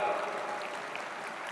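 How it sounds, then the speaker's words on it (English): An audience at a university graduation ceremony applauds the students' families. The clapping is faint and distant, a steady hiss of many hands that eases slightly toward the end. "Let's give the families a round of applause."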